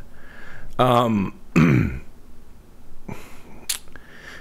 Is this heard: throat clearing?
yes